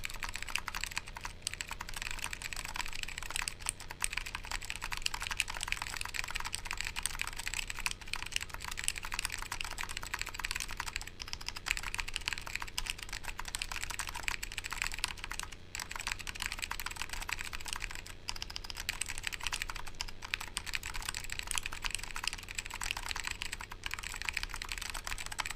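Continuous fast typing on a Sirius POM mechanical keyboard fitted with orange Alps switches, a close, steady patter of crisp keystrokes alone with no voices.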